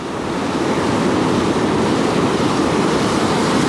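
Ocean waves breaking and churning along a coastline during shore fishing, a steady loud broadband roar of surf with wind noise and no pauses throughout.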